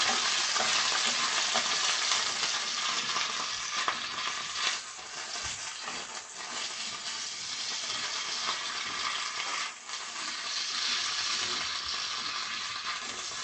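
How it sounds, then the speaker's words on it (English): Steady, loud sizzling of butter and oil frying in a pan, a continuous crackling hiss with occasional stirring scrapes. "You definitely hear that butter and oil going on in there."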